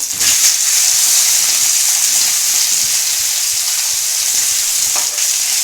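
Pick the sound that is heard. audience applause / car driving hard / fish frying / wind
fish frying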